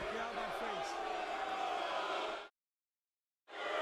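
Wrestling crowd at the Slammiversary 2018 event turning on Eddie Edwards, a loud sustained roar of many voices filling the arena, which drops to silence for about a second before swelling back.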